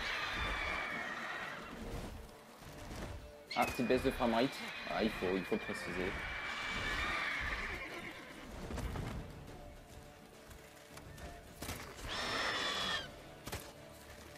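Horse neighing in The Witcher 3 on PS4, a loud whinny burst in the middle with a fainter one later, set against game sounds while someone talks in French throughout.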